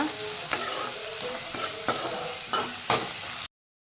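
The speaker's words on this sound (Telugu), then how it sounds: "బాగా వేగాలి, గోల్డెన్ బ్రౌన్ కలర్లో ఆనియన్స్." Sliced onions and green chilli fry to golden brown in hot oil for a Rayalaseema mutton blood dish. A steady close sizzle carries sharp spatula scrapes about every half second, with no talk, and it cuts to silence at the end.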